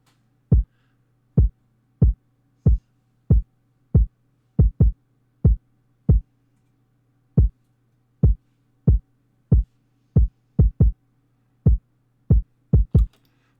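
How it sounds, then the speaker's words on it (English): Punchy, bass-heavy kick drum layered with an 808, programmed in FL Studio, hitting alone in a syncopated pattern of short, deep thumps with occasional quick doubles over a faint low hum. "So the kick sounds like this."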